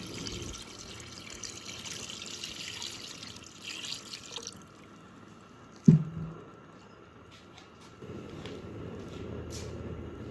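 Water poured into a cooking pot for Zafrani hareesa, a steady splashing pour in the opening seconds, then a short clunk and a later stretch of trickling, all fairly close and without talk.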